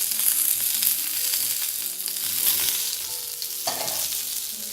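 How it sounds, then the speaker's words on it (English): A tuna steak searing in a hot pan gives a steady, close, loud sizzle and crackle throughout, with no talking. "just take your tuna steak, let it sit on the pan."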